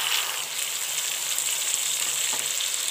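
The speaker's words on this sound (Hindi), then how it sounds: "अच्छी तरह से चिकन को भूनने के बाद अब हम इसमें टमाटर डाल देंगे" Chicken frying in a karahi, Karachi style, with tomatoes going in: a loud, dense, continuous sizzle of hot oil, close up, with faint stirring and no voices.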